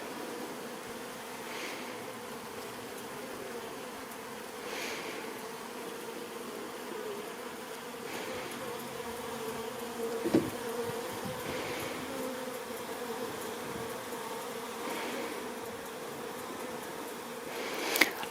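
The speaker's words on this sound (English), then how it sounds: "bees." Honeybees swarm over a freshly opened hive, a steady low droning buzz of many insects close by, with occasional louder passes and faint knocks and no talking.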